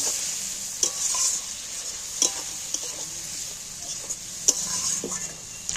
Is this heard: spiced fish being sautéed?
yes